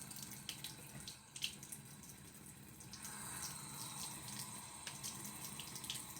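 Tap water running from a faucet while hair is wetted, a steady, faint hiss and splash that grows slightly fuller midway, with a few small knocks and no talking.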